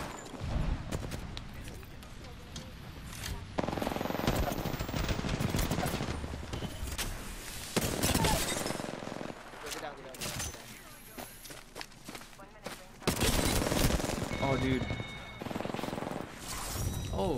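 Apex Legends gunfire during a fight on a canyon ledge: loud, dense bursts of shots and rapid automatic fire alongside footsteps, with a player talking excitedly over the action.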